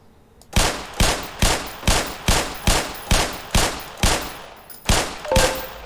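Repeated gunfire from a weapon in the video game Black Mesa, on a hazard-course shooting range: about a dozen loud, sharp shots in a steady rhythm roughly half a second apart, close and clear with no talking.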